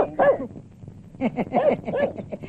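A dog gives a few short, yappy barks close by, in two quick bursts separated by a brief pause.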